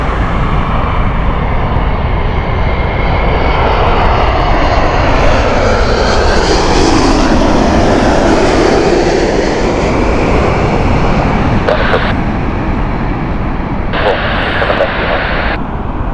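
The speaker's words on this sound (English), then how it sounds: "we currently have United 787 from Los Angeles coming in" A United Boeing 787 from Los Angeles lands at Heathrow Airport. Loud, steady jet engine roar fills the whole stretch and swells and shifts in pitch as the airliner passes close by.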